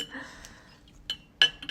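A utensil scraping and clinking against a pot while curry chicken is scooped out, quiet scrapes followed by a couple of sharp metallic clinks near the end, fairly close.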